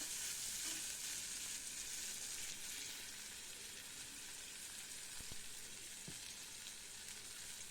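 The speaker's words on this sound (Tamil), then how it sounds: "நல்ல வெங்காயம் அப்படியே ஒருவலாக வர வரைக்கும் நல்லா வதக்குவோம்." Onions sizzle steadily in a hot pan for bitter gourd tamarind curry, a soft continuous frying hiss with a couple of faint stirring knocks, no voices.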